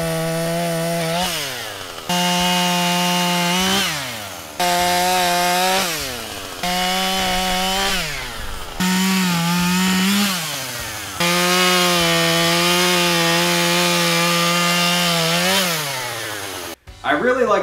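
A Husqvarna 440 chainsaw on an eight-acre wooded property runs loud and close, its engine revving in repeated bursts of two to three seconds with brief drops between, then holding one long sustained high-revving stretch before cutting off.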